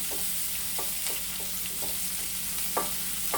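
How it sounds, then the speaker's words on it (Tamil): Chutney poured into a hot pan sizzles and fries with a steady hiss, broken by soft scraping stirs at intervals, close and moderately loud with no talk. "நம்ம கரைச்சி வச்சு சட்னியை ஊற்றுறேன்"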